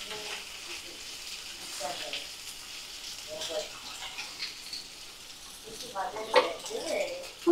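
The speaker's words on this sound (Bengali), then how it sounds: "তো গ্যাসের ফ্লেমটা মিডিয়াম করে রেখে ভালো করে ভাজা ভাজা করে নেব" Raw banana and potato pieces fry in a pan over a medium flame, giving a steady, moderate sizzle with occasional stirring clatter and a few sharper pops near the end; a voice talks faintly over it.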